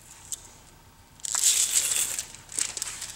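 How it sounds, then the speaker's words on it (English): Window tint film peels off the rear quarter glass of a 2015 Mercedes-Benz S550, a sudden crackling, crinkling rip that swells loud and then breaks into sharp snaps, close and alone. "when peeling the quarter glass off of the glass, the quarter glass film, try to touch as little adhesive as possible"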